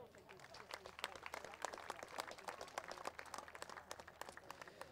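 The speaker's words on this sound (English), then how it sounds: "A big round of applause." Applause for runner Rupert Lugo at the Bunbury Geographe Gift athletics meet, a scattered, moderately faint patter of outdoor crowd clapping that runs steadily throughout with a bed of background murmur.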